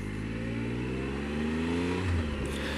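Car engine pulling away in first gear from a stop, a steady close drone with rising revs and a pitch sweep near the end, loud and continuous with no talk.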